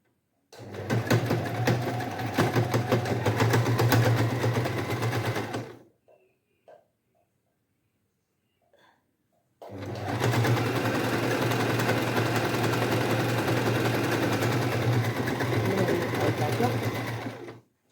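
An electric sewing machine stitches the seams of a baby's trousers in two long, steady runs with a close, buzzing hum, separated by a few seconds of near silence.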